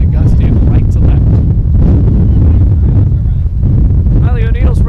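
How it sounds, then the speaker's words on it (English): Strong, continuous wind gusts buffet the microphone at an outdoor softball game, a loud blustery roar that persists throughout with faint voices underneath. "the wind continues to gust in right to left"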